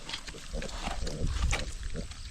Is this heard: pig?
yes